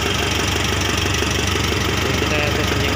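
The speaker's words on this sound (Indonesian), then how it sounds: "dalam ini kita mau tes injektor 1," Mitsubishi Triton 2.5 GLS intercooler diesel engine idling during an injector test, a loud, close, steady rattling diesel idle with even knocking pulses and no letup.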